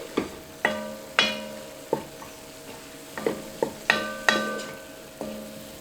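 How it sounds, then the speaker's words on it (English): A spoon stirs garlic with onion powder, garlic powder and poultry seasoning in a soup pot, giving a series of sharp scraping knocks against the metal at an uneven pace over a faint sizzle, close up and without voices. "Give this a nice little stir"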